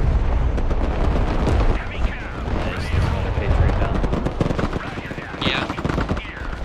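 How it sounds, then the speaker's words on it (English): Dense battle noise in the war game Broken Arrow, with artillery and rapid machine-gun fire mixing into a continuous loud roar of shots and rumbling impacts. A voice speaks briefly over the din. "Shooting back at my artillery."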